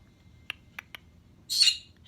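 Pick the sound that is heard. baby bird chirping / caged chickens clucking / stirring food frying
baby bird chirping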